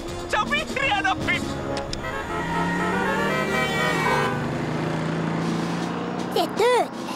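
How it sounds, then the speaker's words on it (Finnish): A car horn toots in quick, loud bursts over vehicle engine noise, with people talking before and after the honks. "Se tööttäsi."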